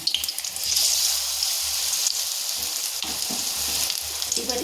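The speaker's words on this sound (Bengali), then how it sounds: "আবার একটা ফুলকপি দেখুন আমি বেসনে ডুবিয়ে দিলাম, দিয়ে সুন্দর করে দেখুন আমি আবার একটা ফুলকপি আমি ছেড়ে দিলাম।" Cauliflower florets coated in gram flour batter deep frying in hot oil, a loud continuous crackling sizzle with bubbling bursts that holds steady from start to end, no talking.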